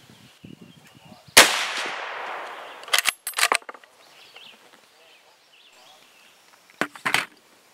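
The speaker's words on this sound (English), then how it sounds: "Here's 9 rounds at 27 and a half grains." A .303 Savage rifle firing cast bullets: one loud, sharp crack with a fading tail, followed by quieter mechanical clicks and clacks of handling spread through the rest of the clip.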